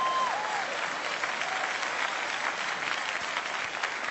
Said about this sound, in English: That's a good clapping point right there.